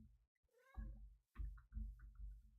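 A cat meows several times in Minecraft, a few short separate calls spread across a couple of seconds, clear and fairly close with no talk over them.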